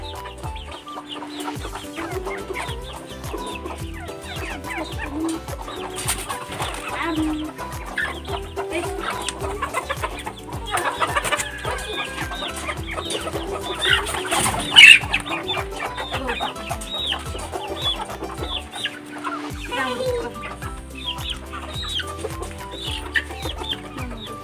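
Hens cluck and murmur close by in a continuous, busy chatter, with a louder squawk partway through and no talking.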